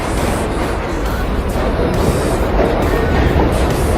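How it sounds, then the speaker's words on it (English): A train pulls into a station with a loud, close, continuous roar and rumble that fills the whole moment, with no voices over it. "I think that's my train, guys."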